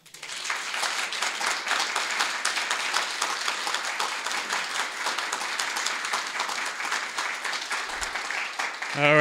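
Audience applause at an Asian American storytelling show, a sustained wash of many clapping hands at moderate distance, steady for several seconds before fading near the end.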